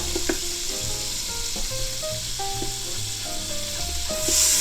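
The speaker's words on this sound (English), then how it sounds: "Keep stirring and scraping all them bits off" A spoon stirs and scrapes browned bits from the bottom of an Instant Pot during a pot roast, giving a continuous close sizzle with scraping strokes and soft tonal sounds in the background.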